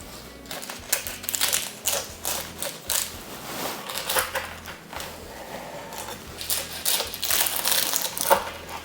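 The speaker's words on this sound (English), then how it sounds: "I suppose we better cut into it now." A knife cutting into a baked creamy chicken filo pie, crackling, crunchy bursts of flaky pastry breaking in uneven rhythm, close and fairly quiet.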